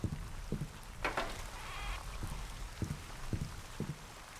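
Rain in the stealth game Thief patters softly and steadily, with scattered low thumps and a few faint sharper ticks over a quiet wash of drizzle.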